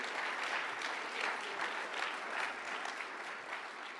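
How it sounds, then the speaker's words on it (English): An audience at a public lecture launch claps steadily for about four seconds. The applause is even and continuous and sounds somewhat distant, with no clear speech over it. "A good time to clap."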